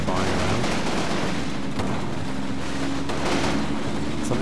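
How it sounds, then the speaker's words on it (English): Battlefield gunfire in Combat Mission: Battle for Normandy, with dense continuous rifle and machine-gun fire and distant booms rolling together under a speaking voice. "there's something over here that's firing on my men and I can't see what it is"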